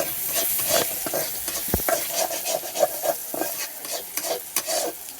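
Onion and garlic are stirred in a frying pan with a spatula, producing a busy close sizzle with repeated rhythmic scraping strokes and one dull knock, no one talking over it.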